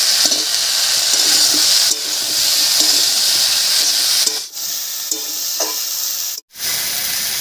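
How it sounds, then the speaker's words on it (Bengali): Cauliflower, potato and tomato fry in a pan with a loud continuous sizzle and hiss, broken by brief pauses as the vegetables are stirred; no talk. "টমেটো দিয়েও একটু নাড়িয়ে নিয়েছি"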